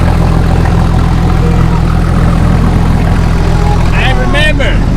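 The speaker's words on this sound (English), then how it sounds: "The race cars are already lining up out there. We can hear the motors running." Off-road race car engines run steadily at an Ultra 4 event at Adventure Off-Road Park in Tennessee, a loud continuous low rumble close by with voices talking over it.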